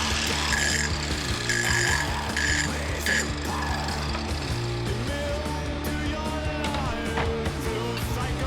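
An angle grinder cutting a flat onto a custom steering shaft for a full hydraulic steering conversion on an IFS 4WD: a loud, continuous whining grind with harsh bursts, close and unbroken, with no talk.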